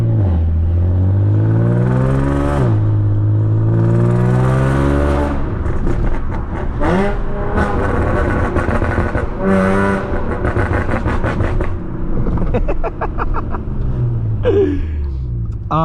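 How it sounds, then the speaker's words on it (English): An Audi B8.5 S with an ARMYTRIX valved catback exhaust, valves open, roars loudly and close, rising and falling through repeated rev sweeps with rough crackling bursts between pulls. "this car's so loud with the valves open"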